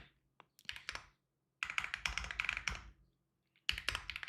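Someone types on a computer keyboard in quick bursts of clicking keystrokes separated by short pauses, close and fairly quiet, with no talking.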